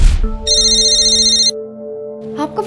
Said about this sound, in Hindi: आपका फ़ोन हमेशा गलत वक्त पे क्यों बजता है?